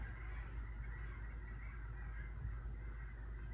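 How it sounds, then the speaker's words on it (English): Geese honk continuously outdoors, a dense overlapping chorus of calls at moderate distance with no pauses. "There's a ton of birds outside."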